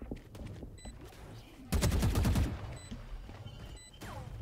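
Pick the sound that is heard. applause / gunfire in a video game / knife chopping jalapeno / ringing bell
gunfire in a video game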